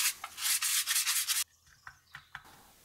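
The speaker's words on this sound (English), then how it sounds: "I just have time to brush off any excess flour they may have" A pastry brush sweeps excess flour off crisp chestnut pastry tart cases in a quick run of close scratchy strokes, followed by a few faint light taps.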